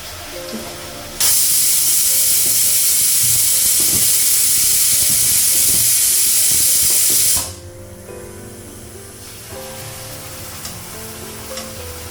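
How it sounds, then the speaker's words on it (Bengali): Luchi, a Bengali puffed flatbread, deep-frying in hot oil in a home kitchen, a loud steady sizzling hiss that begins abruptly, runs for about six seconds, then drops to a quieter bubbling. "এই লুচিটা ভাজা হয়ে যাবে, লুচি হয়ে যাবে"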